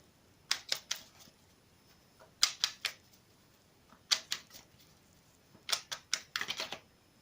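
Tarot cards shuffled and drawn, crisp snapping riffles in short bursts of three or four quick flicks, separated by pauses, close and quiet with no voice over them.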